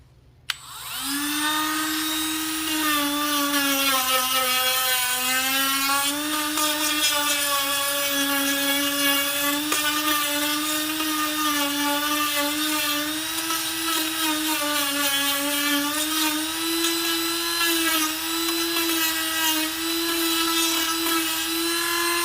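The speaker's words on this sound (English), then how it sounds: "that 60 grit sanding band made some pretty quick work of this" A Dremel rotary tool whines steadily at high speed, its pitch wavering slightly as a 60-grit sanding drum grinds against wood, loud and continuous with no talking.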